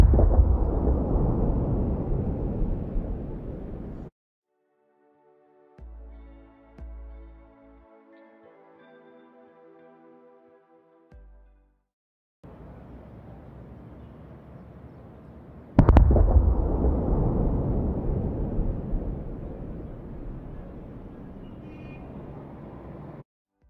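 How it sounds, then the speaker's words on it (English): Sonic boom effects for a meteor disaster scene: deep, rumbling broadband blasts that roll on for several seconds, broken by short gaps with a few softer thuds and a quiet tonal passage, then a sharp loud crack and another long rumble. "add a sonic boom when the Meteor reaches the middle of the screen in the first clip"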